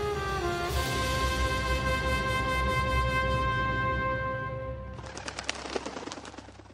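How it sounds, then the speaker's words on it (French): A sustained ringing tone fades out, then a burst of flapping bird wings and calls rises near the end, heard as an augury sound effect for birds appearing, with no talking. "des oiseaux apparaissent à la droite de Numa"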